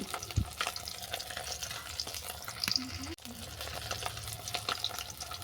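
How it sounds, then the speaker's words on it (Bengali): Catla fish fries in hot mustard oil with a fairly quiet, even sizzle, punctuated by a few clinks and scrapes as the pieces are turned, and one brief dropout midway. "তেল গরম হয়ে যাওয়ার পর আমি কাতলা মাছটাকে ভেজে নিচ্ছি"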